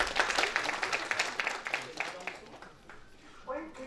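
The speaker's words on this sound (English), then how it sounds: "A big round of applause." Audience applause at a social cohesion dialogue event: a dense, steady wash of clapping for about two and a half seconds that thins and fades, with a voice starting up near the end.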